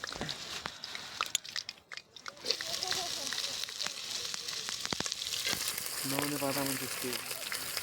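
Food frying in a pan during Himalayan home cooking, a steady sizzling hiss running throughout with a few clinks, while people talk over it.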